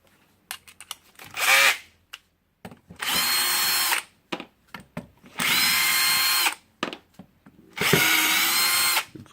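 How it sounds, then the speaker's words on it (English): A power drill unscrews a 4 mm Allen bolt on the gear housing of a Hitachi G23MRU 230 mm angle grinder, running in three sustained whirring bursts, each about a second long, separated by short clicks and handling noises, close up. "I will try to do that with my"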